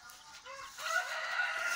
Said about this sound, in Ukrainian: покажу вам зараз старших курчаточок, яких водить квочка.